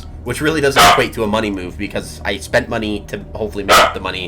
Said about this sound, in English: If you hear my dog, that's my dog Fenrir.